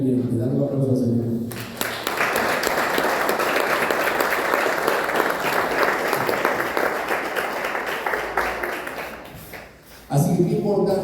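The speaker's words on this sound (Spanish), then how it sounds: "Dale un aplauso al Señor." A church congregation breaks into loud applause after a preacher's call, sustained clapping lasting about eight seconds, with a voice speaking briefly before it starts and again as it fades.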